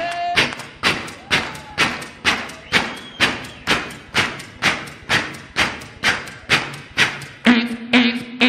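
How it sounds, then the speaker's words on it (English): Audience at a beatbox show clapping along in unison, about fifteen loud, evenly spaced claps with a steady rhythm, one sharp hit roughly every half second. "Everybody clap."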